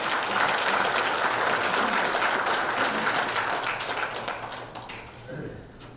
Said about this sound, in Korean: 더 힘내시라고 박수 한번 부탁드리겠습니다